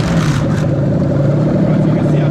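A Toyota UZ-FE VVT-i V8 in a manual right-hand-drive swap, jump-started with 12 volts on a wire, runs loud and close with a dense, steady rumble and no pauses.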